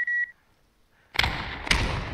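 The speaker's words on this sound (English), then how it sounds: "Oh, they both throw a grenade." Grenades going off in the video game Post Scriptum, two loud, close blasts about half a second apart, each with a rumbling tail, following a brief electronic beep and a quiet pause.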